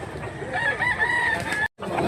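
A rooster crows once at a livestock market in Mantalungon, Cebu, a single sustained call of about a second rising over a busy background murmur, followed by a brief break.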